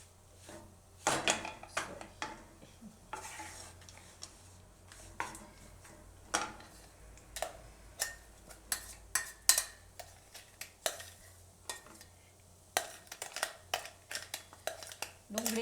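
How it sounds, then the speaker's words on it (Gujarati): Metal spoon stirring and scraping masala spices into a pan of Hyderabadi dum baingan, an eggplant dish, with the gas switched off, giving repeated sharp clinks and scrapes in an irregular rhythm at close range, with no talk over it. "બધો મસાલો આપણે આમાં મિક્સ કરી દઈશું આ રીતે"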